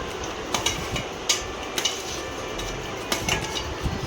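Carrots and peas tipped into a cooking pot while making Maggi noodles, giving several scattered clinks and knocks of vegetables and utensils against the metal pot over a steady background hiss, with no talking.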